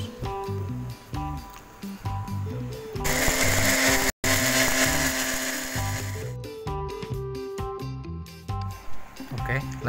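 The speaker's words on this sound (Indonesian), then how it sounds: "Kemudian di blender sampai halus." An electric blender grinds spices smooth for crispy fried-chicken batter in a home kitchen. It gives a loud, harsh whirring burst in the middle, with quieter rhythmic kitchen noise before and after.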